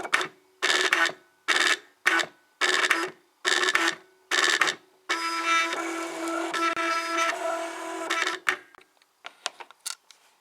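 A Cricut machine drawing with a thick marker on plain typing paper gives off a series of regular mechanical whirring strokes, then a longer continuous motor run and a few short clicks at the end, close and alone.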